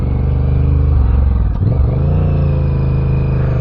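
A motorcycle engine drones loud and close, revving steadily before a brief dip as it shifts into second gear, then pulling on with a smooth, rising hum.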